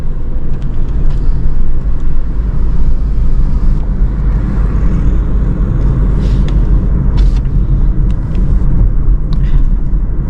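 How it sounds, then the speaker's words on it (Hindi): Car cruising in fourth gear on a road, a steady loud low rumble of engine and road noise running throughout, with no clear change in pitch. "गाड़ी में फोर्थ गियर लगा दिया"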